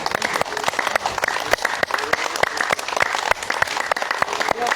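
A group keeps clapping continuously in a yoga class, with dense, rapid claps of many hands forming a steady, sustained wash of sharp snaps at an even loudness throughout.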